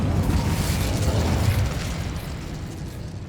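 An Incendio fire spell erupts in Hogwarts Legacy, a loud, dense whooshing roar of flame with a heavy low rumble that holds steady and then eases slightly over a few seconds.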